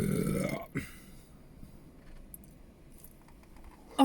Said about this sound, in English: That was a champion burp.